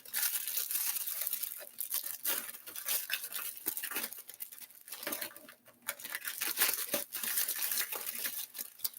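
Someone cuts open a wrapped candle gift package up close, giving about nine seconds of irregular crinkling, tearing and rustling with short sharp snips; no one speaks.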